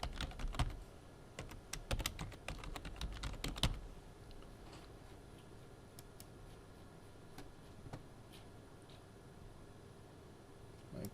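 Someone types a password on a computer keyboard: a quick, dense run of close, crisp keystrokes for the first few seconds, then quiet room hiss with a few isolated clicks.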